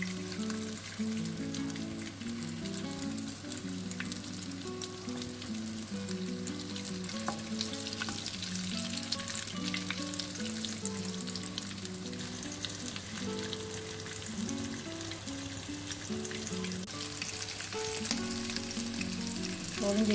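Vegetable cutlets shallow frying in oil in a pan, with a steady crackling sizzle that runs unbroken throughout and occasional faint scrapes of turning or stirring, close and alone with no voices.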